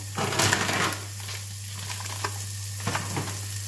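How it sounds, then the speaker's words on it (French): Onions and lean ground meat sizzle in a hot pan, a steady close frying hiss with a few scraping stirs of a utensil, no talking. "Donc je vais faire revenir les oignons. Je vais pouvoir y rajouter ma viande."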